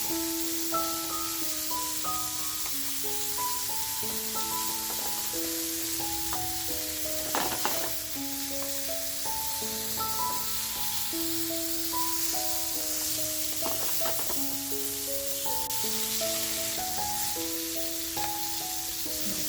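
Prawn-stuffed bombil fish sizzles steadily in a pan as it is flipped, a constant frying hiss with a couple of brief scrapes, under background music and no talk.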